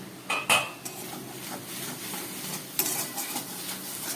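A metal lid comes off a pan of banana flower and potato curry with a sharp clang near the start, then spoon scrapes and clinks against the pan over a soft sizzle, a second clatter midway.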